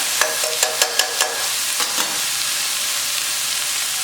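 Collard greens sizzle loudly in a hot pan after coconut milk goes in, with a run of rhythmic scraping tosses of a utensil early on, then steady frying hiss alone.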